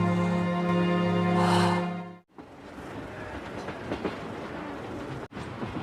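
A train runs on rails in the 2016 survival film Survival Family, with a long sustained horn tone first, then a steady rumbling clatter of wheels on track after a brief cut.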